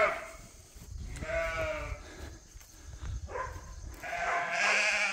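Sheep bleat several times inside a barn on a farm, some calls drawn out and some short, fairly close, with rustling and shuffling underneath.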